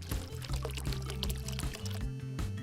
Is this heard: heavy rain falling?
no